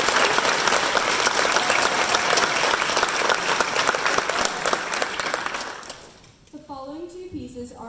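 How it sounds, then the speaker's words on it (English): Sustained audience applause at a high school winter chorus concert, dense and even for about six seconds before fading out, followed by a voice beginning to speak. "Let's give a round of applause for Logan."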